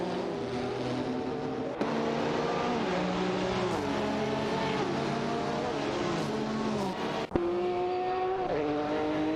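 Race cars from a video game, including a Ferrari 50 GT and a 962 LM, scream past in a continuous loud engine roar, with rising and falling pitch as gears shift and cars jostle for position.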